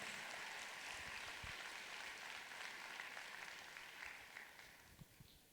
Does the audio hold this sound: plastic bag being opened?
no